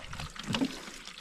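Cold spring water flows on a mountain, a brief soft trickle and splash heard close up. It is quiet, with no talking.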